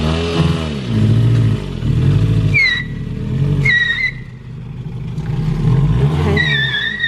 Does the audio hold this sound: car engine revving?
yes